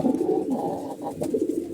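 Racing pigeons in poor condition cooing close up, a steady low rolling coo that swells and dips for a couple of seconds.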